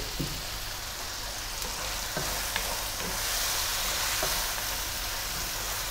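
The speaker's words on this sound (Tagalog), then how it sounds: "Again, gisayin lang natin yung ating sibuyas." Onions and chili sautéing in a pan for Filipino pig feet adobo, a constant loud close sizzle with occasional light stirring ticks throughout.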